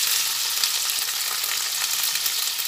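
Capsicum and onions frying together in a pan for an eggplant-free chilli dish, a steady dense high sizzle running unbroken and fairly close, with no voices.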